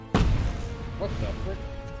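A single heavy blast from a grenade in the Robocop: Rogue City video game booms loudly near the start and rumbles off, followed by fainter game sounds and a voice speaking.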